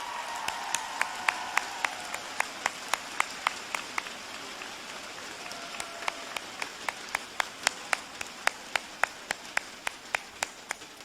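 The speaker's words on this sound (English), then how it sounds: "So give yourselves a round of applause." School students applaud at a unified celebration with sharp, evenly spaced claps that ring out one after another in a steady pulse, fairly close over a soft background hiss.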